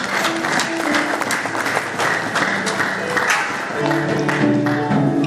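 Church congregation applauding steadily throughout, a dense wash of clapping from a large crowd with a few sustained voices or tones mixed in underneath.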